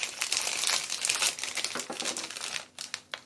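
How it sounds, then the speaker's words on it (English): A plastic gift bag for Valentine lollipop packaging being opened, loud close crinkling and rustling in dense bursts that thin into a few sharp crackles toward the end. "Open your bag."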